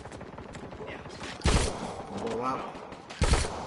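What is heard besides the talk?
gunfire in a zombie shooting video game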